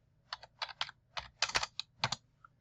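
Numbers being typed into an Excel spreadsheet on a computer keyboard: close, crisp keystrokes in short irregular bursts, with a few brief pauses between groups and no talking.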